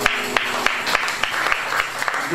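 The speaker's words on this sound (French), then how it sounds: "applaudissements." A congregation at a church service applauds after a prayer, individual claps popping out irregularly above a continuous bed of clapping, fairly loud and close.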